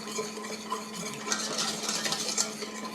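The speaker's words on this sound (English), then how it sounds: "So all we're going to do is whisk this together." Homemade barbecue sauce being whisked in a bowl, a steady close scraping and clinking of the whisk against the sides with no talk.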